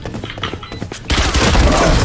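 Close rapid burst of gunfire in Valorant, a competitive shooter match, erupting loud and dense after a second of quieter in-game footsteps and movement.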